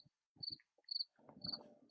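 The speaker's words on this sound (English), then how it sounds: "You got crickets in your background" Crickets chirp in short, evenly spaced high trills at dusk, faint and distant, with soft low rustles and thumps in between and no voices.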